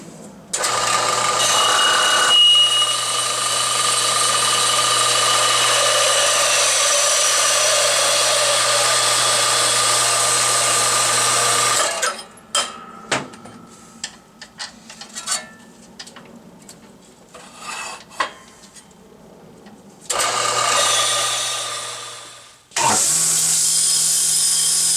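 A bandsaw cuts a metal part from a carport canopy, a loud steady grinding whine that runs for about twelve seconds, gives way to scattered clanks and handling noise, then starts again in short bursts.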